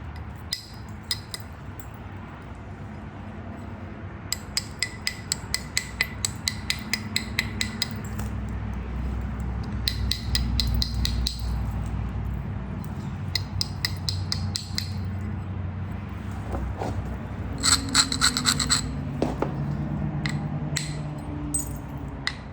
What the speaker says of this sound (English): let's bevel this other side